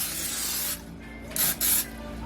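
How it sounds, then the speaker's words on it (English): Cooking spray hisses from a can into a cake pan for fruit cake, one long steady spray, a pause, then two short sharp bursts, close and alone. "I'm just gonna spray it like that"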